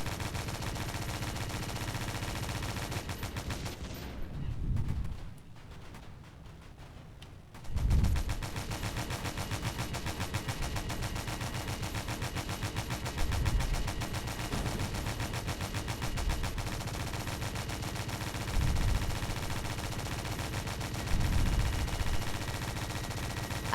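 Rapid bursts of automatic gunfire rattle through a military video game battle, sustained and loud with brief louder volleys and a short muffled lull partway through, no talking.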